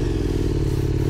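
A motorcycle engine idles or runs close by, a loud steady low throbbing rumble with a rapid pulsing beat throughout the brief moment.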